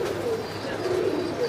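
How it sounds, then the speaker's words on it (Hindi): Pigeons cooing close by in Latur, Maharashtra, soft low throaty coos that repeat over a steady background hiss of wind. "ये देखो दोस्तों लास्ट कबूतर है"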